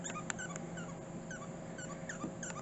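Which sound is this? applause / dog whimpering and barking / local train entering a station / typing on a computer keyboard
dog whimpering and barking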